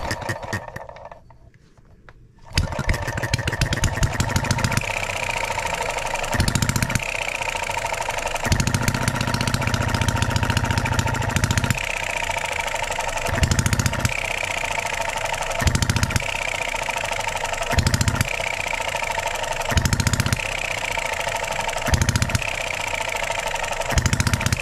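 A tiny Enjomor 6cc hit-and-miss model engine running after a cold start, with a steady fast chatter broken by a regular rhythm of firing bursts and coasting gaps, loud and close.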